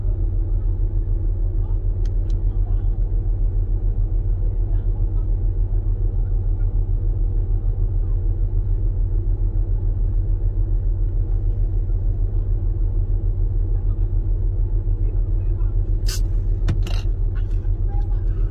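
A car drives close by with a steady, loud low rumble that holds for the whole stretch, with a few brief scraping clicks near the end and no talk over it.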